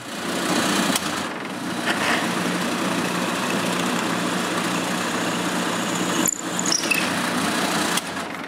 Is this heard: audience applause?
no